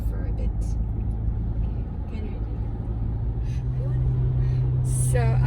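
A car cruises slowly along a road, with a steady low engine and road rumble throughout and a brief higher whine near the end; a person speaks over it.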